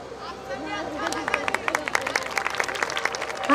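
Audience clapping at a Khatu Shyam Ji jagran in Topkhana Bazar, Ambala Cantt, builds into a dense run of sharp claps, with crowd chatter and a voice beneath it at the start.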